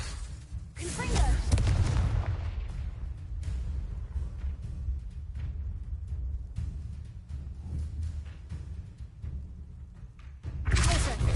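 Booming fire-spell blasts and rumbling impacts from the Hogwarts Legacy video game on hard difficulty, loud and dense, with a heavy blast near the start and another near the end, over continuous battle noise.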